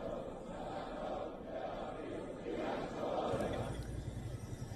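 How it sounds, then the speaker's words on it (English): A large crowd of protesters in Iran on a covered street chants slogans in rhythmic unison, the massed voices rising and falling in waves, heard from some distance. "a large crowd gathered on a covered street and can be heard chanting slogans"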